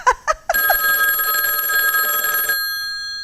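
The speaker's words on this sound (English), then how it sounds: "I assume Roseanne has some sort of old 80s phone." An old 1980s telephone bell rings in a sustained metallic trill for about two seconds after a few short tones, then the ringing decays and stops.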